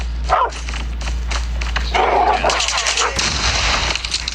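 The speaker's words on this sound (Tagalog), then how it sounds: "Ay, aso." A dog barks several times nearby amid a noisy, booming background with some muffled voices.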